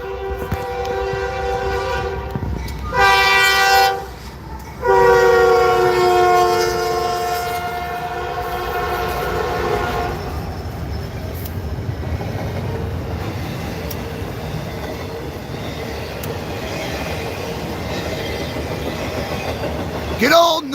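A Norfolk Southern freight train rolls past with several loud horn blasts early on, followed by a long, steady rumble of cars moving by nearby.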